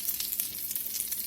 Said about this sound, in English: We'll let that sizzle there a few minutes.